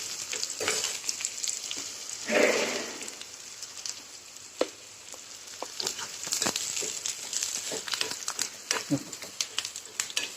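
Onion frying in hot oil in a pan, a moderate crackling sizzle dotted with sharp clicks and pops, with a brief louder burst of spatter early on.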